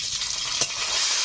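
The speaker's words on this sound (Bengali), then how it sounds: "এখন দিয়ে দিচ্ছি টমেটো কুচি" Chopped tomato hitting onions frying in oil in a pan, a steady close sizzle with a brief stirring scrape midway, no talking.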